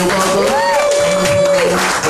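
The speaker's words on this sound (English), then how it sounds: "Y'all keep clapping, make her feel like family and welcome." Audience clapping at a live event welcoming a new performer, a continuous wash of applause with voices and a high tonal sound over it.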